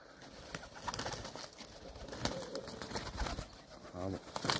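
A pigeon coos in the open during a release of homing pigeons among trees, close and clear against steady outdoor noise. Scattered clicks and faint rustling sit under the bird, and no one speaks.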